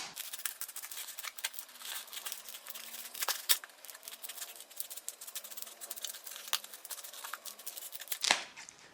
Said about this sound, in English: I'm using the wife's scissors